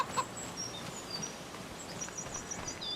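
Soft chicken clucks and chirps in Farming Simulator 25 over a faint, steady background hiss, with a few short calls scattered throughout.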